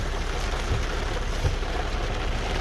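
Steady rain drums on a car during a long holiday road trip home from Turkey, a dense continuous wash of drops with a couple of low thumps, loud and close with no voices.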